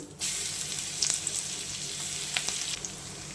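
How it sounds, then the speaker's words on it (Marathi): Garlic with a pinch of asafoetida sautéing in oil for a leafy vegetable dish, a continuous bright hiss with a few soft stirring clicks, close up and without talk. "आपला लसूण छान परतून झालेला आहे"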